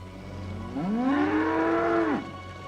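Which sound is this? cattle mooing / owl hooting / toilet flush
cattle mooing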